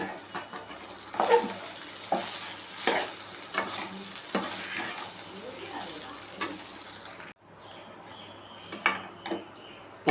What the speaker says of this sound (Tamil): இதோட சாதத்தையும் போட்டு நம்ம கிளறிக்கலாம்.